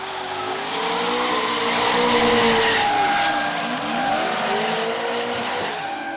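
Drift cars racing on a track at a drifting event, engines revving loudly and steadily with screeching tire skids and wavering pitch as the cars slide through corners, close and continuous.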